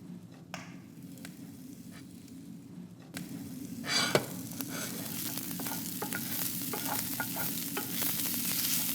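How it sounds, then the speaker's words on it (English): Sausage meat sizzles and fries in a pan for a calzone rustico filling at an outdoor kitchen, a steady crackling hiss with stirring scrapes that grows louder partway through, with no talking. "So we're gonna cook the sausage meat, which is gonna be our filling."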